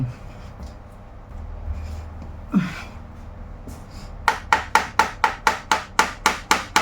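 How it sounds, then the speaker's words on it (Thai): After some quiet rustling and a breath, a hammer taps rapidly and evenly about a dozen times, sharp and close, knocking tight-fitting shelf parts together. "มันต้องใช้ ค้อนช่วย เพราะว่ามันค่อนข้างแน่น"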